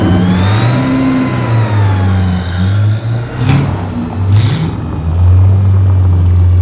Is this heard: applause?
no